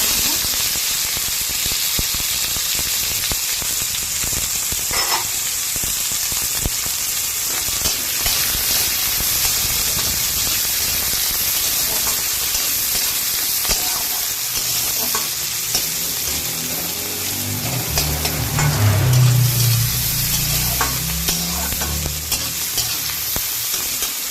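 Spices and onion fry in oil for a lentil dal made with pumpkin stems, a loud, continuous sizzle with stirring scrapes, and a voice murmuring briefly near the end.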